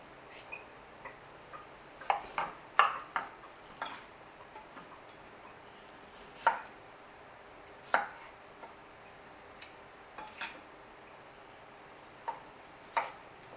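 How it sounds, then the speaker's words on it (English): A knife cuts through cucumber on a board, halving and quartering it in scattered sharp taps with quiet gaps between, close and faint, no voices heard. "she's going to slice them in half, and then half again"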